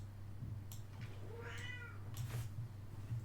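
A house cat lets out a single drawn-out meow mid-clip, moderately close, over a steady low electrical hum and faint room noise.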